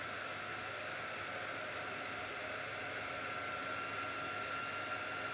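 A hair dryer blows steadily over freshly applied paint on a craft piece, a constant even whooshing hiss with no talk.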